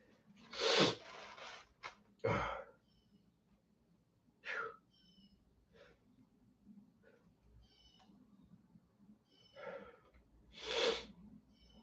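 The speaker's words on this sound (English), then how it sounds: "I've been here sneezing for like 3 minutes." Sneezing fit of a person, a handful of sharp sneezes scattered over several seconds with quiet breathing and faint background between them, fairly close and mostly soft apart from the bursts.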